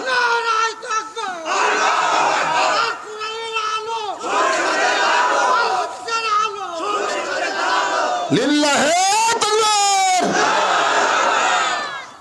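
A large crowd at an Islamic religious sermon shouts takbir in loud, repeated unison bursts, rising and falling in waves with a few shrill voices standing out.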